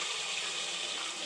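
Water pours steadily into a pot of chicken khichuri, making a continuous close hissing rush with no break and no voices over it.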